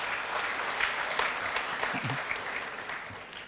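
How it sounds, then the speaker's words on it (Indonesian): Congregation at a Sunday church service applauding for Joseph, dense continuous clapping throughout with a brief low murmur in the middle. "Tepuk tangan dong untuk Yusuf."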